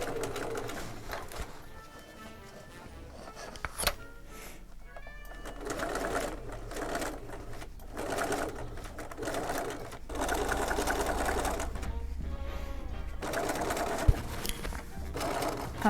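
A sewing machine stitches through two layers of non-stretch waterproof fabric for a rain cape, running in repeated bursts of fast rhythmic whirring broken by short pauses. Its sound is moderately close, with a faint hum in the background.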